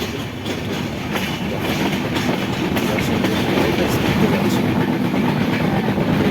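A passenger train runs along rails in a loud, continuous rumble with a rhythmic clickety-clack of wheels. No voices, heard from on board.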